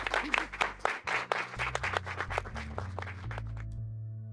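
Audience applause rises in a burst of clapping, mixed with low music, then thins out as the music carries on alone.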